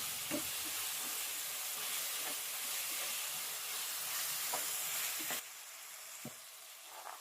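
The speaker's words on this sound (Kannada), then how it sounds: "ಟೊಮೊಟೊ ಎಲ್ಲ ಚೆನ್ನಾಗಿ ಸಾಫ್ಟ್ ಆಗ್ಬೇಕು ಫ್ರೆಂಡ್ಸ್, ಆ ಥರ ಫ್ರೈ ಮಾಡ್ಕೋಬೇಕು" Tomatoes with mint and coriander leaves frying in a pan for rajma pulav, a steady soft sizzle with faint occasional stirring taps, quieter near the end.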